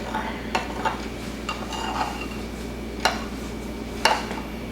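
Wet coconut cupcake batter with pure vanilla is gently mixed in a small bowl, making a few soft scrapes and occasional sharp utensil clinks against a steady background hum.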